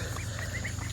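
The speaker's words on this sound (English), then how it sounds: "you're hearing some of my big adult chickens over there scratching around." Big adult chickens scratch around outdoors, giving soft clucks and murmurs that carry faintly over a steady low background hum.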